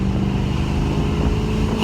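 A heavily modified car engine accelerating on an open runway, a loud, close, continuous throaty drone that holds steady for the whole short stretch with no talking.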